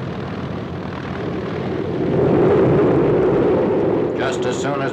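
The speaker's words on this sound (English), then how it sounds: "soon as the propeller wash of the plane ahead has been dissipated, the next member of the carrier squadron leaves the forward runway" A propeller-driven warplane roars loudly as it takes off from the forward flight deck of an aircraft carrier, its steady engine drone swelling midway and sustained to the end.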